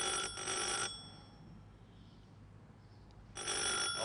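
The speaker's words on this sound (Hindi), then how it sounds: "बीवी कब से फोन बज रहा है" A telephone bell rings in two loud bursts, one at the start and another near the end, separated by a quiet pause.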